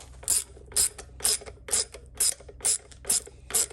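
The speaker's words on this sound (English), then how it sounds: "Going to start tightening down the valve springs." A hand ratchet tightens down valve springs on an LSA cylinder head, giving eight evenly spaced clicking pulls, each a sharp metallic burst of pawl clicks, close and clear against a low background hum.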